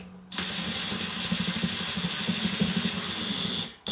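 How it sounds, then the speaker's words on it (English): A clamping bolt on a tire tool is tightened with a power tool, a loud whirring, ratcheting mechanical buzz that starts abruptly, runs steadily for about three seconds with rattling pulses, then winds down. "So once you get that in there, you're gonna tighten the clamping bolt"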